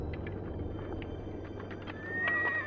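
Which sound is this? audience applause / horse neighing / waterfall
horse neighing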